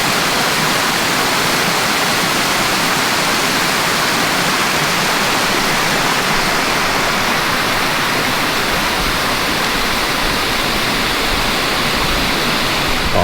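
Water spills and trickles down rocks at Fern Pool in Karijini National Park, a steady, dense rushing hiss like a small waterfall, loud and close and unbroken throughout, with no voices.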